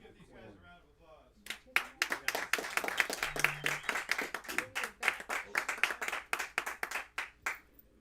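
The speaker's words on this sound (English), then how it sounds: "Let's give these guys a round of applause." An audience breaks into applause after a voice finishes talking, with scattered claps building into dense, lively clapping that holds for several seconds before thinning out.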